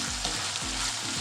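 Minced beef with chopped onions frying in oil in a pan gives a loud, close, continuous sizzle, with a few soft scraping stirs underneath and no voices.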